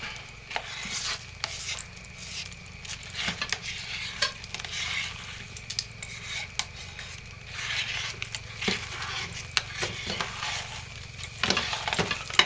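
Homemade soap mixture with blue colorant being stirred steadily for several seconds, a continuous scraping and swishing with small clicks of the utensil against the container, close and moderately loud, with no talking.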